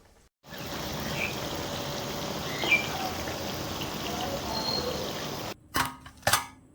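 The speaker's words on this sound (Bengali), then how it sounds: "তো বাকিগুলো ঠিক আমি এরকম ভাবে ভেজে নিচ্ছি।" Khari biscuits deep-fry in hot oil with a steady, dense crackling sizzle that holds for several seconds, then cuts off, followed by a few sharp clatters.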